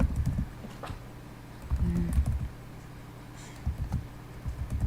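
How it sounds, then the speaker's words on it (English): Keys tapped on a computer keyboard, played as short irregular bursts of clicks with pauses between them, fairly close and moderately loud over a low background hum. "I didn't type the right thing."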